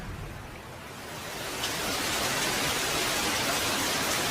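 Rain falls as a steady broadband hiss that swells over the first two seconds and then holds loud and even, with no voices.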